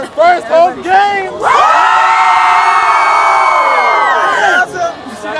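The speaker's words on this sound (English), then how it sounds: "You see that crowd out there?" A crowd at a first home game roars and cheers loudly, long sustained whoops and shouting swelling into a wall of sound, with a few short shouted calls before and after.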